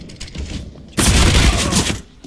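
Grenade blast in a video game, a sudden loud broadband burst about a second in that roars for roughly a second before dropping back to quieter background noise.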